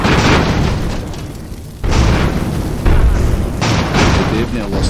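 Rocket explosions in the airship battle game Airships: loud repeated booms and bursts over a rumbling backdrop, arriving in several separate hits.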